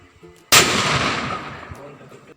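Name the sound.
firecrackers bursting for Vishu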